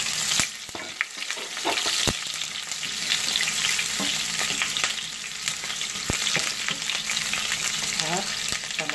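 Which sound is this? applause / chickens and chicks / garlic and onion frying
garlic and onion frying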